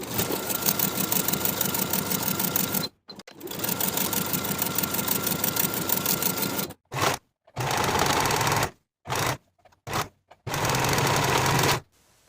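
A sewing machine stitches a curved crotch seam on beginner kite pants with a half-inch seam allowance, running in steady loud bursts that stop and restart several times across the clip.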